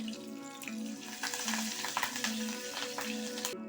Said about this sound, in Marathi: आता याच्यामध्ये मी कढीपत्ताच टाकते